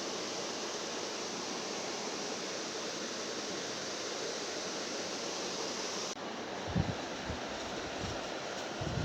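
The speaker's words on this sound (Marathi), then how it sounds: "आता भेंडी घेते धुवून." Okra is washed under running water, giving a steady, dense rush of flowing water close by. Near the end the flow changes and a few soft knocks and handling sounds break through.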